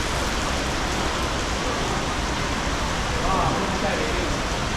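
Steady rain pours onto a street in a mural village in Zhuhai, China, lined with painted walls; a dense, even hiss holds throughout, loud and close, with faint voices beneath it.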